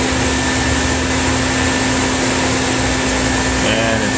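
DekTec wave soldering machine running as a board feeds toward the wave, a loud steady broadband mechanical roar with a constant hum, continuous for the whole stretch and close by.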